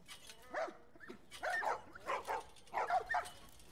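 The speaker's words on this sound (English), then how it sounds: "I don't know what the uses for these dogs are." Dogs bark in the post-apocalyptic video game The Last of Us, a run of short yips and barks in quick clusters, fairly faint and distant, without talking.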